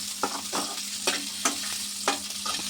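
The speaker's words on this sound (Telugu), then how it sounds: "ఇవి కూడా పచ్చిమిరకాయలు బాగా వేగాలండి, తెల్లగా చక్కగా." Green chillies fry in hot oil, sizzling steadily with several distinct scraping stirs at irregular intervals, close and clear, with no voices.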